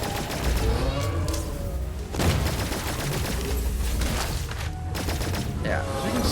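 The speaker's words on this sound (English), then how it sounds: "Let's throw the flashbang." A flashbang grenade goes off in the sci-fi game Cygnus Enterprises amid dense rapid gunfire: a sharp broadband burst stands out from continuous shots and impacts, while someone talks over the action.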